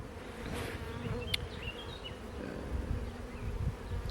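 Dense buzzing of a honeybee swarm at a hive, a steady close drone with individual bees whining past, no voices.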